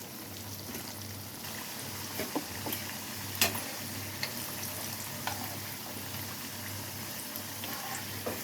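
Elephant foot yam (karunai kizhangu) slices fry in oil in a pan with a soft, steady sizzle, broken by occasional clinks and light taps of a utensil, with no talk.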